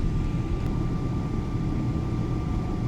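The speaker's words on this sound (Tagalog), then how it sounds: "Paalis na aeroplano namin." A departing airplane gives a steady, loud low-frequency engine rumble with a faint tonal whine on top, continuous and unbroken throughout.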